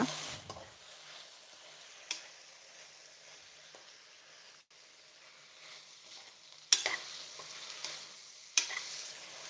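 Greens sautéing in a spoon or two of oil in a pan, a soft steady sizzle with occasional louder scraping stirs, close and fairly quiet, no voices.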